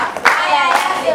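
A children's TV show audience applauds a contestant in a short, lively burst of clapping that swells quickly and fades within about a second.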